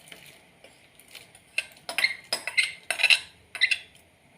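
Ladle or spoon stirring ada into pink palada payasam in a metal pot, a series of light clinks and scrapes coming in irregular bursts, close and fairly quiet.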